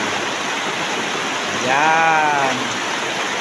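A river flows with a steady broadband rush as people wade across it, its noise continuous and fairly loud throughout, while a brief voice rises over the water near the middle.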